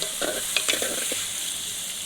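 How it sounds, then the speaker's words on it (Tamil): Onions sauté over high heat in a pan with a bright, constant sizzle and a few quick scraping stirs near the start, heard close up with no talking. "வெங்காயம் நல்லா வெடிச்சிருச்சு, வெங்காயம் நல்லா வதங்கி வருது."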